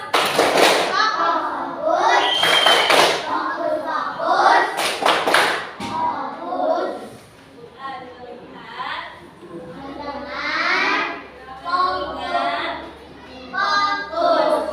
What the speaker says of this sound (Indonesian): Oke, semuanya tepuk fokus.